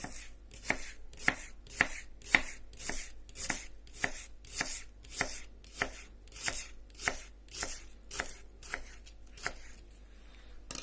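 Raw unmarinated shashlik meat is cut with a Yakut knife on a board, each stroke a sharp close knock in a steady rhythm of roughly two per second; no talking.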